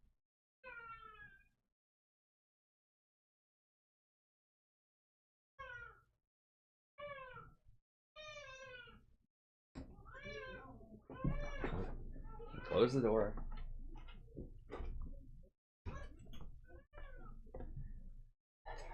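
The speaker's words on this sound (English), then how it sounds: "Here's the cat again." A cat meows repeatedly from another room, several rising, drawn-out calls spaced across the first half, then a voice talks over further faint meows.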